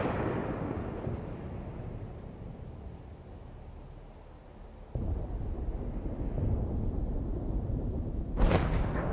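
Artillery strikes and explosions in combat between Ukrainian and Russian forces: a deep rumbling boom fades out, then a sudden heavy blast lands midway and another sharp burst follows near the end, all at a distance.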